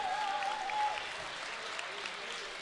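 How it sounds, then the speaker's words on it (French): Applause from a crowd at a rural sports competition on a track, a steady wash of clapping at moderate distance with a brief tone at the start. "une bonne main d'applaudissements pour vous aujourd'hui"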